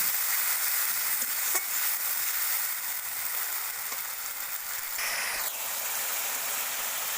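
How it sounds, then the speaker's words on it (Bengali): Spices with a little sugar and water sizzle and fry steadily in a pan for spinach and lentil-fritter curry, a loud continuous hiss with occasional stirring scrapes. "এবারে সব মশলাগুলো ভালো করে কষিয়ে নেব"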